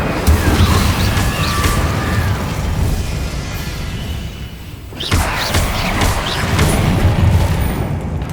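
Incendio fire spells are cast over and over in Hogwarts Legacy, producing loud booming bursts and crashing thuds that roll steadily across the clip, with a brief dip before a fresh blast.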